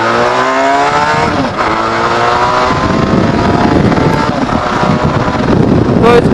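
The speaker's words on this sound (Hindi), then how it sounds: "इसका जो स्टॉक एग्जॉस्ट है उसका भी साउंड बहुत प्यारा है" A Benelli TRK502 motorcycle with its stock exhaust rides at speed, a steady loud engine note with rising and falling harmonics under heavy wind rush, close to the rider throughout.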